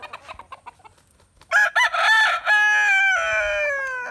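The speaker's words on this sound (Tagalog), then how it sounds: "So yan po yung ibang manok namin dito." Game farm roosters crowing loudly and clucking; several short clucks come first, then long drawn-out crows close by that overlap and fill the second half.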